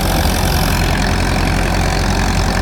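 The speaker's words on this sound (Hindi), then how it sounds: "ट्रैक्टर लगा हुआ है 260 हॉर्स पावर का है ये," A 260-horsepower tractor drives a wheat thresher during harvest, making a loud, steady engine drone with a rumbling mechanical roar that stays close and unbroken throughout, with no voices.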